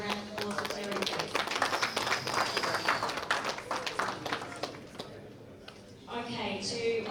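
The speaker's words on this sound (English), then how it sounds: "Give a round of applause for Terry, please." A crowd at the Anzac Open 2018 final presentation gives a round of applause, dense close clapping that fades after about five seconds, with voices mixed in.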